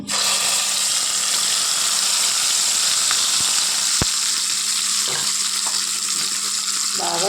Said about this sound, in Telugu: ఆయిల్ హీట్ ఎక్కిందండి మసాలా వేసేసుకుందాము